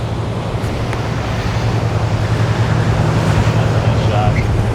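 Big waves surge and crash at the Haulover Inlet jetty as a boat passes in the background, a constant loud roar of surf and wind buffeting the microphone, with a low engine drone underneath.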